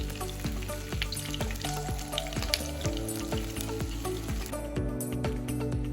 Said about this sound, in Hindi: अब इसको चारों तरफ से चला के पका लेंगे। अच्छे से कुक हो गया सब तरफ से।